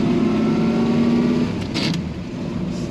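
A 1931 Pontiac Series 401 Fine Six coupe with a 3-speed manual idles steadily nearby, a low even engine rumble with a short brighter rise partway through.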